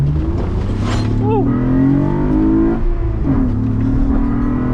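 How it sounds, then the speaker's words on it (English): A swapped-in 3.7L engine in an Acura TL runs and revs up, its tone rising and falling over a steady idle drone, while a person briefly whoops over it. "The engine's working."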